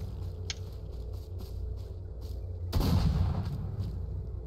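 Gunfire in the survival shooter STALCRAFT near a radioactive zone with mutant spawns: a steady low rumble of distant shots, then a sharp, loud burst near the end that sustains briefly.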